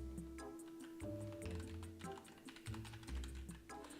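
Fast typing on a computer keyboard at a desk with a dual PC setup, a steady patter of close, crisp key taps running in uneven bursts over a low hum.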